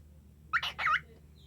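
A pet cockatiel gives two short, bright whistled chirps in quick succession, fairly close and clear, with a quiet room in the background.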